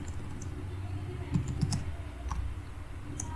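Quiet clicking of a computer keyboard during a Selenium coding session, a short cluster of soft keystrokes in the middle with a few scattered taps, over low room hum and no talking.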